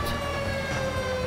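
A siren wails steadily during a tsunami in GTA 5, holding a sustained tone with a faint higher harmonic over a continuous rumbling background. No voices are present.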